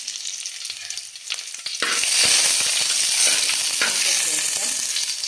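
Curry leaves and dried red chillies drop into hot oil, already popping with mustard seeds, bursting into a loud, continuous sizzle after quieter crackling, with stirring clatter underneath.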